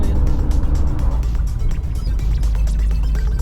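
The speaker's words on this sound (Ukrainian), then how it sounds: "Знову виїхали на трасу і направляємося у Миколаїв." A car cruises along the Kryvyi Rih–Mykolaiv highway in Ukraine, a loud continuous road and engine rumble with wind noise filling the cabin, steady and close throughout.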